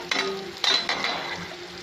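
Sliced boiled eggs being stirred into a hot, sizzling masala in a pan, with a few scraping stirs over a steady frying hiss, close up and without talking.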